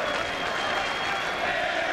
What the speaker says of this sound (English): Big smile on Kurt Heinrich's face as a crowd chants Harry Potter to him.